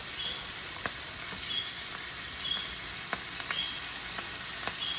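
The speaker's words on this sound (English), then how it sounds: "the first thing we're going to add into our hot skillet is our butter" Butter and cabbage sizzling in a hot skillet, a steady fine crackle and hiss with scattered pops, close and fairly quiet, no talking.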